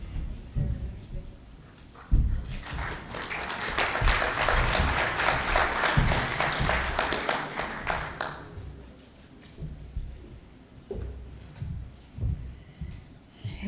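At a Labour Party Conference, delegates break into a swell of applause as a speaker walks to the podium, rising sharply, holding for several seconds, then fading back to scattered claps and hall murmur.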